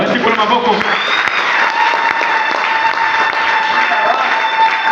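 A church congregation applauds during a sermon, with dense, sustained clapping from a crowd close by and tonal sound mixed underneath throughout.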